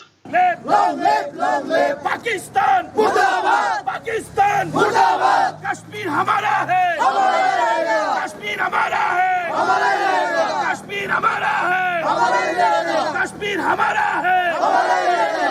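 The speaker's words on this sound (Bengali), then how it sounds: "এখানে স্লোগান দেয়া হয় ভারত মাতা কি জয় পাকিস্তান মুর্দাবাদ" A large crowd of BJP party workers chants political slogans in unison during a street celebration, loud, rhythmic repeated shouts and cheers filling the air with continuous crowd noise throughout.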